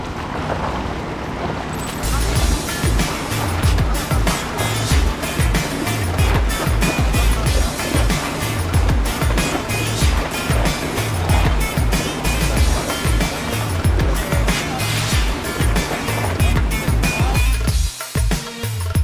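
Steady road traffic along a seaside road in İzmir, a continuous roar of passing vehicles with rhythmic thumps, loud and close throughout.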